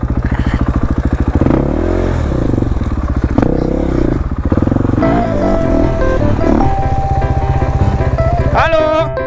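A supermoto motorcycle engine running in Italy, with revs rising and falling and a gear shift, steady and close throughout, with brief speech heard over it.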